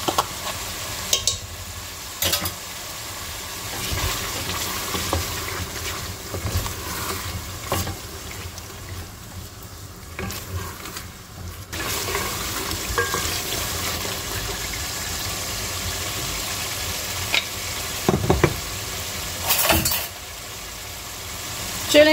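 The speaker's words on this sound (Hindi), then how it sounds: "मसाला भून गया अच्छी तरह, दही भी सारा हो गया" Masala and yogurt frying in a pan and being stirred, a steady sizzle with scraping strokes running throughout, moderately loud, with no talking.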